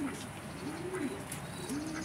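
Pigeons coo softly nearby in a repeated, rolling rhythm of several calls over a quiet background.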